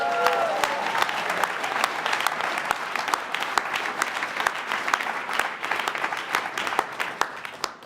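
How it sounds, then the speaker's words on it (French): A crowd applauds steadily for several seconds, dense clapping filling the room with a few brief voices mixed in. "On les applaudit quand même."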